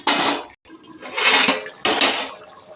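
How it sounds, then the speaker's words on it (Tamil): A lid goes onto a metal cooking pot of simmering vegetables: three loud, close metallic clanks and rattles separated by short pauses. "மூடி வச்சுருவோம்"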